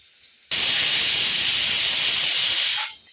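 A loud, steady blast of steam hissing from a pressure cooker whistle starts abruptly and holds for over two seconds before fading out.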